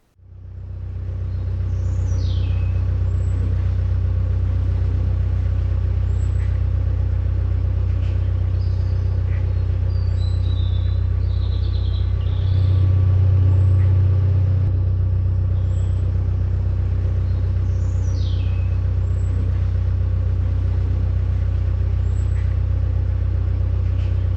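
Steady, loud traffic roar on the M54 motorway overhead, heard from a canal boat on the Staffordshire and Worcestershire Canal near Autherley Junction, a continuous low rumble with a brief heavier swell mid-way.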